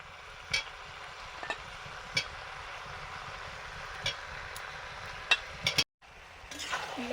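Meat and potatoes browning in a pan while being stirred: a quiet, steady sizzle broken by scattered sharp scrapes and clinks of the spoon, then a brief drop to silence near the end.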